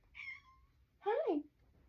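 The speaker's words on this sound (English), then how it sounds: "Or if you just meowed" A cat gives two distinct meows in close succession, the first a thin drawn-out cry and the second louder and lower with a falling pitch, heard close up over a faint background hum.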